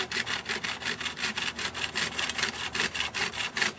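A hand saw cutting through wood in quick, even back-and-forth strokes, close and steady throughout with no voices.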